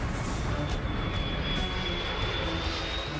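A plane comes in low on a landing approach in bad visibility, its engine a steady, loud roar with a faint high whine that holds throughout, no voices.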